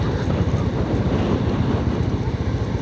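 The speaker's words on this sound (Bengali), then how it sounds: "ওই দেখেন রে ভাই কি বাতাস" Strong wind buffets the microphone at a seaside ferry ghat on Shah Porir Dwip, Teknaf, Cox's Bazar, a steady loud roar with low rumbling gusts and possible surf underneath for the whole stretch.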